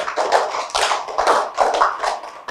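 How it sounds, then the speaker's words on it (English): A class of children clapping hands together, a quick run of bright irregular claps in bursts, close and fairly loud with no talking. "Give a good clap for him."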